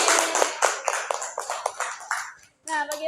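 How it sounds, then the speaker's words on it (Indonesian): Classroom of schoolchildren clapping together in a burst of sharp, close claps lasting a couple of seconds, fading out before a voice begins. "Tepuk tangan untuk kita semua."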